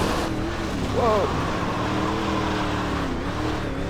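A dirt race car engine under throttle in iRacing drones steadily throughout, with a low rumble and faint shifting engine tones. A voice speaks over it.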